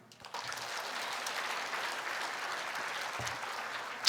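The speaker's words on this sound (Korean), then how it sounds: "박수." Congregation applauding during a Sunday church sermon, a dense sustained wash of clapping that starts after a brief pause and holds steady throughout, moderately distant in a large hall.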